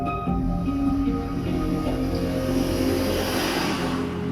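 Car being driven at steady speed, a constant engine drone and road roar filling the cabin, even and unbroken throughout with no voices.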